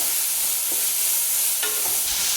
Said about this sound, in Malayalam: തക്കാളി സോഫ്റ്റായി വരുന്നത് വരെ ഇളക്കി കൊടുക്കാം.